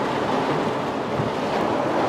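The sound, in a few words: water pouring and flowing in before a storm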